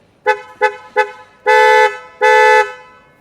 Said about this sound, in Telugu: ఇప్పుడు హార్న్ సౌండ్ బయట నుండి అయితే కనుక ఈ విధంగా ఉంటుంది